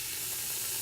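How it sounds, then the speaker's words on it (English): Lardons fry in a hot pan for beef goulash, giving off a close, even sizzle with a constant bright hiss and no pauses. "So we got a nice sizzle again happening"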